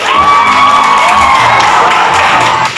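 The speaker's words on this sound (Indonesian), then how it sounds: "Yuk, kelompok 1 beri tepuk tangan untuk kelompok 1" Classroom of children clapping and cheering for a presentation group, loud excited shouts and whoops mixed with clapping in one short burst.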